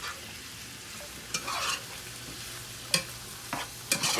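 Ginger and garlic sizzling softly in a pan, a low steady fry broken by a few quick stirring scrapes and spoon taps, close but quiet.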